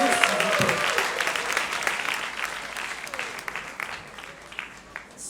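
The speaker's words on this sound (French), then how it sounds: "Applaudissez-vous, s'il vous plaît." A congregation applauds at a gospel concert in Montreal, loud sustained clapping that slowly eases off, with a few voices and cheers underneath.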